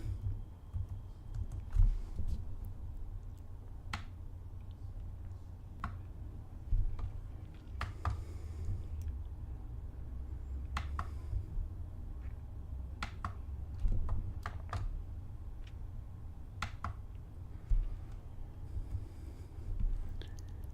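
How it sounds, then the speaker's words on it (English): Keys clatter on a computer keyboard as commands are typed in an Ubuntu 18.04 terminal, a steady run of soft, close taps and clicks over low background hum, with no talking. "I forgot to type sudo."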